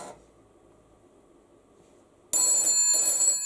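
Telephone ringing picked up through a Philips X40 EX5 telephone pickup amplifier, bursting in loud and buzzy after two seconds of low hum, with two close ring pulses separated by a brief dip.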